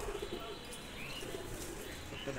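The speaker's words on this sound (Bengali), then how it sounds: "কালসিরা পায়রা, কালসিরা নর পায়রা।" Pigeons in a loft coo softly with low, rounded murmurs against a dense, noisy background, faint and partly masked, with slight rustling that may come from wings.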